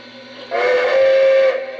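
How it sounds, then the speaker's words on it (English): A small model train steam whistle toots once, shrill and steady for about a second, over a faint mechanical hum. "There's the whistle."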